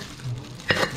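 Food frying in a pan, likely eggs for an egg pizza at a rice-noodle village eatery, gives a steady sizzle that swells briefly with a sharper burst near the end, with no talking.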